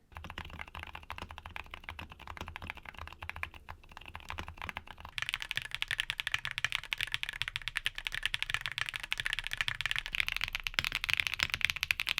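Rapid clicking of mechanical keyboard switches as someone types steadily, quieter at first and then louder and denser, with no voices.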